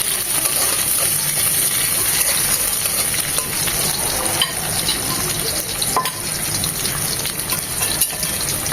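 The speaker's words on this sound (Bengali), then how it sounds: "এটাকে এক মিনিট ভেজে নেব দিয়ে দিচ্ছি লাল সবুজ মরিচ" Beef chow mein with red and green chilies stir-frying in a pan, a loud continuous sizzle with steady stirring and occasional clinks of the utensil.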